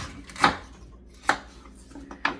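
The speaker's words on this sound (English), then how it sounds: "flip it around, cut the heel off" A knife cuts through the heel of a celery stalk on a cutting board with three separate crunchy chops. The chops are close and unhurried, with short pauses between them.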